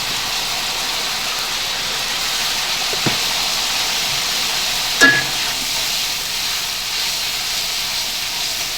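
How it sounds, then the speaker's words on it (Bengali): Spice masala frying in oil for a paneer vegetable dish with taro, giving a steady hiss and sizzle, with a couple of brief clinks from a utensil partway through. "এই যে মশলাটা একসাথে ভেজে নিচ্ছি।"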